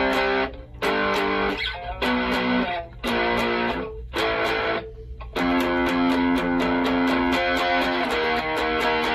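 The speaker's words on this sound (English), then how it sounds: "That's a really nice distortion kind of grunge sound." Electric guitar played through a Flatsons KMF-1 pedal on its grunge distortion preset: loud, fuzzy chords strummed in bursts with short gaps, then a sustained stretch of heavy distorted chords.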